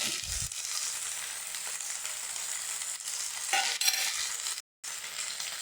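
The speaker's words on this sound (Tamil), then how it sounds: "அடுப்பை சிம்லேயே வச்சுக்கோங்க. தேங்காய் துருவல் கொஞ்சம் சேர்க்குறேன்." Grated coconut frying in a pan over a low flame, giving a soft continuous sizzle with a few stirring scrapes and a brief cut to silence near the end, no voices.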